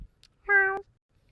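A cat gives one short, clear meow, close and alone against near silence.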